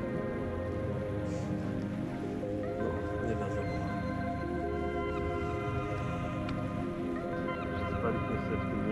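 Steady broadband roar of ocean surf heard from a campground beside the ocean, continuous and fairly distant, with a low rumbling wash and no distinct breaks between waves.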